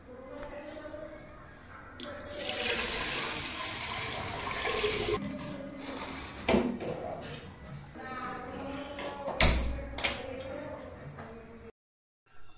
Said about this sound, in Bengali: এই ড্রামে তো জল শেষ, ওপরে জল দিই